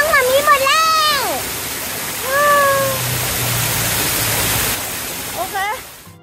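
A waterfall at a resort in Vang Vieng, Laos, roars as steady broadband rushing water, with someone speaking over it at the start and end.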